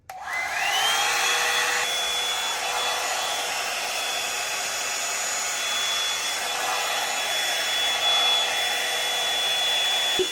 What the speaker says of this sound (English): I still have to use my blow dryer to like really blow out my hair